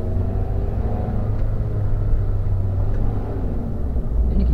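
A Toyota Avanza accelerating on the road, heard from inside as a loud, steady low engine rumble with road noise and no talking.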